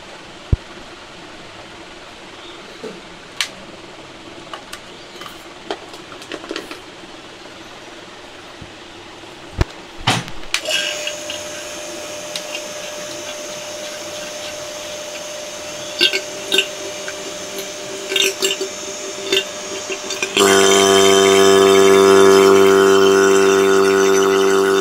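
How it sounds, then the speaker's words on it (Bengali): A vacuum pump evacuating a Whirlpool refrigerator system with an inverter compressor follows scattered handling clicks. It starts with a humming drone and then rises into a louder, steady motor whine. "ভ্যাকুম মেশিন রেডি করে নিয়েছি, গেজ মিটারের সঙ্গে ভ্যাকুম মেশিন পাইপ লাগিয়ে নিলাম।"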